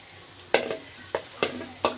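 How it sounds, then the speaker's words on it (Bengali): Soy chunks fry with onions in a hot pan, a steady sizzle broken by four sharp scraping stirs of a utensil against the pan, close and clear with no talking. "আমি পেঁয়াজের ভিতরে সয়া ফলগুলো দিয়ে দিয়েছি"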